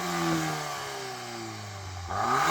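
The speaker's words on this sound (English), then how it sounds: "I'm going to start off by revving up this Golf R." A Volkswagen Golf R engine revs up loudly, pitch climbing then falling back, with a second sharp rev near the end; a close, strong engine note with no talking.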